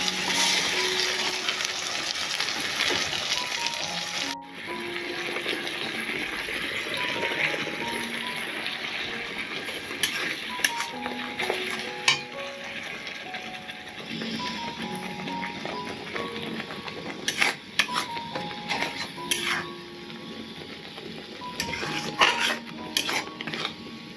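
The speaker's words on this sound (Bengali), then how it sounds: "মশলাটাকে পেঁয়াজের সাথে ভালো করে মিশিয়ে নেব।" Ginger, garlic and onion paste is stirred into fried onions in a pan for duck curry. A spatula scrapes and clinks against the metal in irregular knocks over a faint sizzle, close and unaccompanied by talk.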